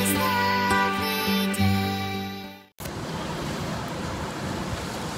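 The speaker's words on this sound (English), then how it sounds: "it's a bit windy out there today" Steady roaring wind and surf at a beach wash over the microphone after a brief tonal passage cuts out, a continuous loud rush of breaking waves.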